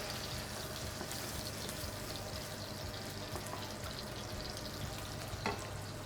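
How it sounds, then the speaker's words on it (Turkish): Meatball pasta sauce with parmesan sizzles and bubbles in a pan as water is added, giving a continuous close frying hiss with faint stirring clinks and a small knock near the end. "Üzerine bir miktar su ekleyeceğim."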